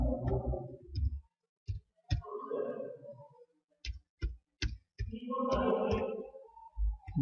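Computer keyboard keys being struck while typing a name in Bijoy Classic Bangla software, sparse sharp clicks scattered between and under a voice talking.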